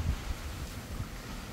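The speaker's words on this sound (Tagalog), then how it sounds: "malakas lang talaga hangin" Strong gusty wind from Super Typhoon Uwan blows past a small home garden, a low buffeting roar with brief surges, heard alone.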